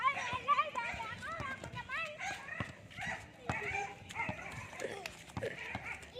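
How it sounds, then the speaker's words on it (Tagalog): A dog barks and yips repeatedly near children at play, sharp barks scattered through a lively mix of children's voices and adult talk. "Hoy, may aso dyan, ha?"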